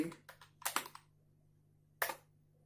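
A few soft, close clicks of computer keyboard keys in a quick cluster, then a pause and one more brief tap against a faint background hum.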